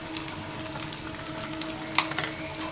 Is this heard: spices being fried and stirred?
yes